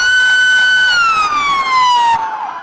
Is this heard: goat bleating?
no